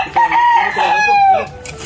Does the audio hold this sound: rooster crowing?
yes